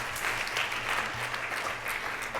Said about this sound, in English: deserves an applause